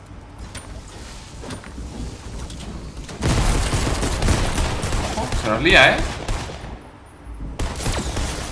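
Rapid bursts of gunfire in a Fortnite match, several quick shots in a row over a loud, dense battle mix, with someone talking excitedly in Spanish during the fighting.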